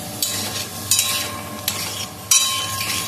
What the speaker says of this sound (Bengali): ভাজা চলছে বাদাম তেলের মধ্যে, লবণ আর কাশ্মীরি রেড চিলি পাউডার দিয়ে